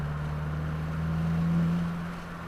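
A 2022 Subaru WRX on an open track day at Waterford Hills, its engine droning with a steady low hum that swells as the throttle opens, then eases off toward the end, heard from inside the car.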